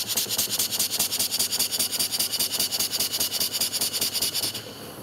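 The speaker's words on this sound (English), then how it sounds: "But it is a neat little steam engine." Small model steam engine running at a quick, even chuffing rhythm, close and loud with hissing exhaust puffs, before the beat slows and fades at the end.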